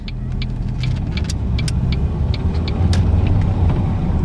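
A car engine rumbles steadily up close during a heel-and-toe downshift, with a low continuous drone and faint clicks and taps over it rather than a distinct throttle blip.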